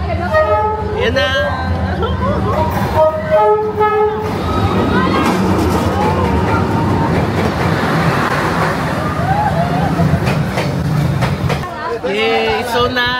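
A train squeezes past close by along Hanoi's narrow train street with a loud, rumbling roar, its horn tooting in short blasts at the start and again near the end, while people chatter and cheer excitedly throughout.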